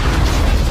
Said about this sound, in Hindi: कुछ ही सेकंड में वह बेकाबू होकर इधर उधर घूमने लगा और एक जोरदार धमाके के साथ क्रैश हो गया।